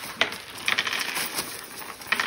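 A saran wrap ball crinkles and rustles up close in a party game, with faint clinks of coins shaken inside under the dense plastic crackle.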